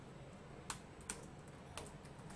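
Keys on a computer keyboard are pressed while a website title is entered. The clicks are sparse and faint, and a few separate taps stand out against a quiet background.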